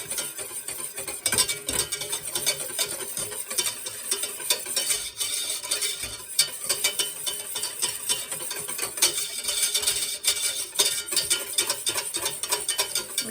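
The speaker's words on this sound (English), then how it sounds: "Do not stop stirring while it's boiling." A spoon stirring boiling hot cocoa in a pot makes a steady scraping, bubbling clatter that runs unbroken and fairly close throughout.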